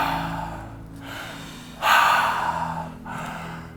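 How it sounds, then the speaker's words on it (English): Three deep breaths are taken through the mouth, each a breathy rush of air. The second is louder and longer, and short pauses fall between them. "And we take 3 deep breaths through the mouth."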